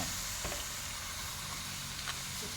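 Bamboo shoots, curry paste and meatballs sizzle steadily in a hot pan while being stir-fried, a continuous close frying hiss with faint scraping of the stirring utensil.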